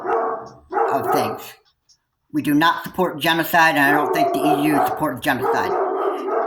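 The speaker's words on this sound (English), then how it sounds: "I apologize for my barking dogs." Dogs bark intermittently in the background of an indoor setting while someone speaks continuously in the foreground, the barks partly masked by his talk.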